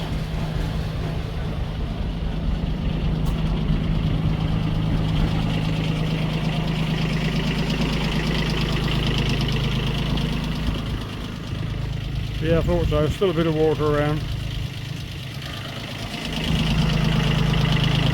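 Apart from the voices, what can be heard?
Iseki tractor diesel engine idling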